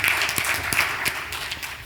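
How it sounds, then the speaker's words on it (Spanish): A conference audience applauds a panel speaker with a dense, even patter of many hands, moderately loud and steady across the short stretch with no voices. "Un gran aplauso."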